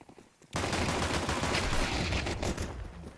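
Loud, sustained gunfire in a Counter-Strike match bursts in after a short quiet moment, rapid shots running together into a dense volley that holds for the rest of the moment.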